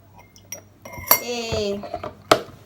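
A spoon clinks against a bowl as two spoonfuls of milk are added for a homemade yogurt face mask, with a few sharp metallic taps and a brief liquid pour in between, close and clear.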